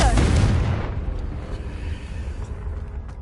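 A Confringo blasting spell explodes in Hogwarts Legacy, a loud close boom that rumbles and decays over a few seconds.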